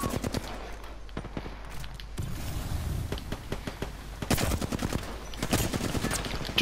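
Rapid gunfire bursts from an Apex Legends squad ranked match on PS4, sharp repeated shots in quick clusters over steady game ambience, growing louder toward the end.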